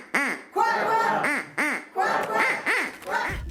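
A run of squeaky, honking duck quacks from a stage magician's duck gag, about seven nasal calls in quick uneven succession, close and clear.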